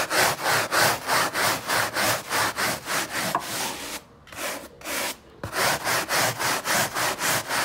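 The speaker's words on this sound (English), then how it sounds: "And then I'll brush it both directions. This loosens up all the embedded soils." A brush scrubbed back and forth across upholstery fabric in both directions, making steady rhythmic rasping strokes, close and loud, with a brief slower pause partway through before the regular strokes resume.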